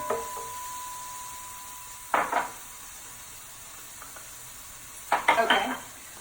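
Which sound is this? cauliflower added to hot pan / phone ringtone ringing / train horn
cauliflower added to hot pan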